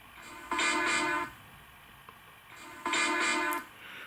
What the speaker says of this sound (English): So that's the horn that's on there now